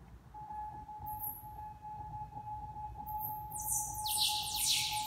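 An Intellijel Quadrax synth envelope shapes a thin sustained electronic tone into bright, bird-like chirps, with quick high sweeps that bunch up toward the end. The sound is faint and quiet, and no one speaks.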